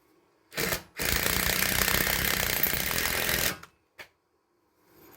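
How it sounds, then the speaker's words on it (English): An old Ryobi ratchet torque wrench whirs loudly and close in one short burst, then in one sustained run of about two and a half seconds, followed by a brief final blip. "The old Ryobi ratchet torque wrench thingy there."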